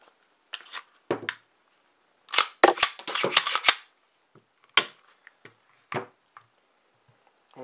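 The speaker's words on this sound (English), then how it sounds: "let me just clear the firearm itself" Glock pistol being cleared by hand, giving a series of sharp metallic clacks and clicks: a dense cluster of slide and action noises in the middle, then scattered single taps, close and fairly loud with no talking.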